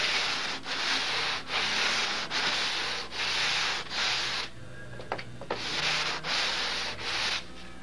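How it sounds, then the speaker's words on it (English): A wooden edge for model wingtips is rubbed back and forth on sandpaper glued to a table, making loud, close, rhythmic scratchy strokes with short pauses between passes. "Now I have the sandpaper glued to the table. I want to get a nice smooth edge on this."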